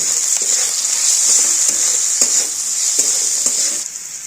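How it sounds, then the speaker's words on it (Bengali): Okra (bhindi) frying lightly in an oiled pan for masala bhindi, a steady close hiss with soft irregular stirring scrapes and taps throughout, no voices. "আমি ভেন্ডিটা একটু হালকা করে ভেজে নেব"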